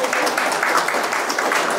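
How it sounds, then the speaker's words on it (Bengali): An audience at a business development program applauds, a dense, steady wash of many hands clapping close by for the whole stretch. "ওকে, সবাই সবার জন্য একটা হাততালি হয়ে যায়।"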